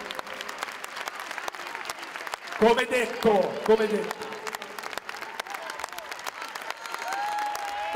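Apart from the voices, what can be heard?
crowd applause at basketball team presentation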